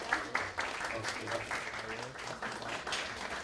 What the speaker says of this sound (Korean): 박수도 한번 해주십시오.